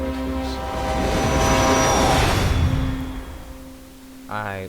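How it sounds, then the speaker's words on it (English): A train in the video game What Remains of Edith Finch rushes past with a loud swelling roar and droning horn-like tones that peak mid-clip and fade, followed by a brief tonal sound at the end. "He was just hit by a train"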